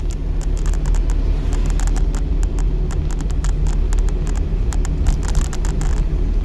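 A car engine revs and accelerates on the road during a driving lesson, a loud steady rumble from inside the vehicle with faint ticking above it and no speech.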